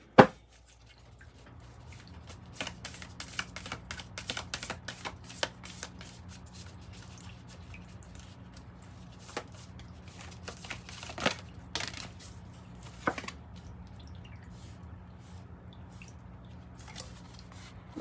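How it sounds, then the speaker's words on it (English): Oracle cards are shuffled by hand in a quiet room, giving a steady run of soft riffling and slapping flicks. A few sharper snaps come as cards are pulled from the deck, and no one speaks. "Let's pull a Lover's Oracle card for you just to wrap it up."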